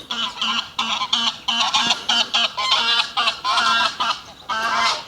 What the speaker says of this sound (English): Go away, you noisy geese.